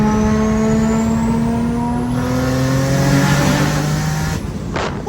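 A 700 whp G35 coupe accelerates hard, its engine and turbo spool rising in pitch with a loud, close roar from the cabin through the open sunroof, then a shift near the end.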